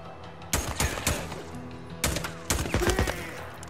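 Gunfire from a sniper and others in Days Gone: clusters of sharp, loud cracking shots in quick bursts, some echoing, over a tense game background.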